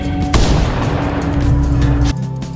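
In the Nigerian gangster film Gangs of Lagos, a sharp, loud gunshot cracks out and is followed by a heavy, booming blast of sound that holds for nearly two seconds before cutting back to a quieter background.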